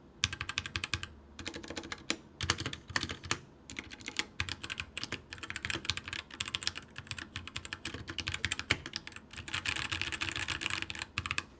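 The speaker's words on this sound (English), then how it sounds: "it feels very solid to type on. It doesn't sound that hollow." Steady typing on a solid, heavy mechanical keyboard fitted with stock TTKS4 switches, keystrokes clattering in quick irregular bursts with brief pauses, close and alone.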